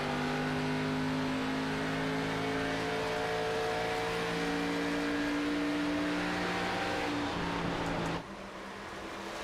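Race cars lapping Darlington in the iRacing simulator, several engines droning nose to tail in a steady high-revving whine with shifting pitches, the roar dropping abruptly near the end.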